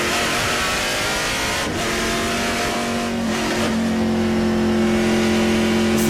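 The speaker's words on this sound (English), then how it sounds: "Listen to this car." A TA2 race car at Road America accelerates hard into turn 8; the loud engine roar holds steady and then climbs in pitch as the revs build.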